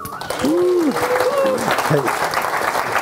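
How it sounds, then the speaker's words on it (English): An audience at an evening cloud-native tech meetup in London claps steadily in welcome for a speaker, a continuous dense wash of applause, with a brief voice and a whistle-like tone rising over it near the start. "please welcome with a round of applause"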